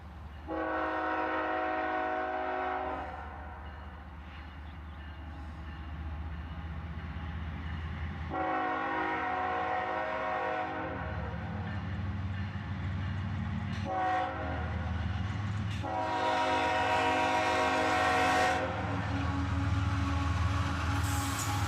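A CSX freight train rolls past at close range, with several long, loud blasts of its multi-tone horn separated by stretches of heavy rumbling and wheel noise. Nobody talks.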